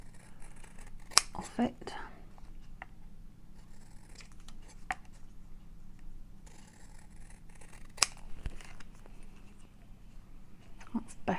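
Scissors snip paper while a junk journal card is being trimmed, a few soft, close cuts spread over quiet, with someone speaking briefly.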